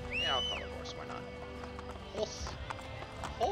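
Called horse approaching in Assassin's Creed Brotherhood, hoofbeats clip-clopping under a game soundtrack with a neigh or whinny near the start, moderately quiet, a short run of hoof sounds over about three and a half seconds.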